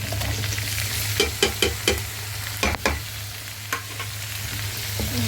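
Chopped onions frying in a pan with vegetables give a steady close sizzle, with several sharp scrapes and clinks from stirring scattered over about five seconds.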